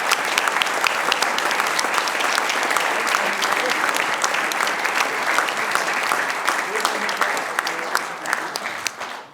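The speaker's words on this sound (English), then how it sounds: "And also special applause to Pooch, because he's a machine." Loud, sustained applause from a conference audience at the Printed World Conference 2025, dense clapping filling the room with crowd noise and some voices underneath, tapering slightly toward the end.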